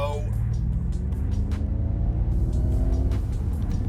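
A 2023 Ford Mustang Mach-E GT accelerates hard with its synthetic propulsion sound on, a low rumbling drone rising steadily in pitch, close and continuous, with no one talking.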